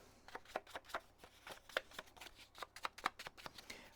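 Scissors trimming a paper page for a junk journal, a quiet run of crisp, evenly spaced snips up close with no talking.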